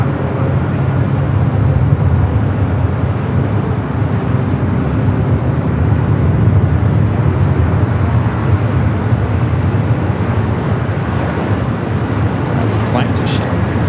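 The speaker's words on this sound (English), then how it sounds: "we got Eva rolling down the 250 right" An EVA Air airliner rolling down runway 25 right at LAX on takeoff, a heavy, low, sustained engine rumble that stays loud throughout, with a voice talking over it.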